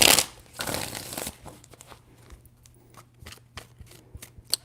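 Tarot cards are shuffled in a couple of brisk riffling bursts followed by lighter scattered taps and flicks, close and moderately loud.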